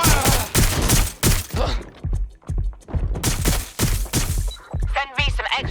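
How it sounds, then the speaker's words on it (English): Rapid bursts of gunfire from the video game Watch Dogs Legion, loud repeated volleys with short pauses between them and faint game voices mixed in. "Shots fired."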